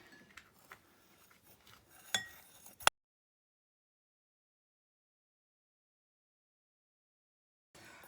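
A spoon or whisk clinks and scrapes lightly in a bowl, mixing bath bomb dry ingredients with glitter, for about three seconds before the sound drops to silence.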